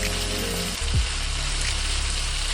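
Onions and meat fry in a pot as the base for gumbo, a steady close sizzle and crackle with a low hum underneath and one brief stir or scrape partway through.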